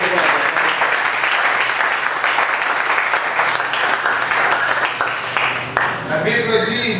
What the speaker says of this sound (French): Vous applaudissez pour la parole.